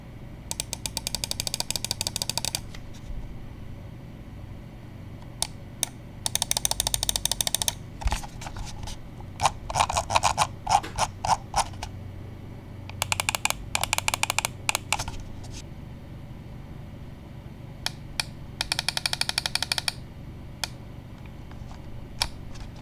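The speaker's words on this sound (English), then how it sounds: "let's drop the click and build quality sound check" Gitoper G2 mouse buttons, including the rear and front side buttons, clicked in rapid bursts of crisp, close taps, with quieter pauses and a few single clicks between clusters.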